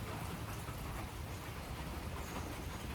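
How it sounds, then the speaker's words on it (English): Rain falling steadily outdoors as a dense, even hiss of drops with no breaks, moderately faint and with no voices. "But you can clearly see it's still raining."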